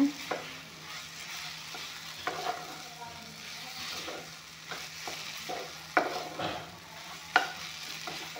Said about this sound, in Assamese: এতিয়া মাছৰুমখিনি বিলাহীৰ লগত একেলগে অলপমান টাইম ভাজি ল'ম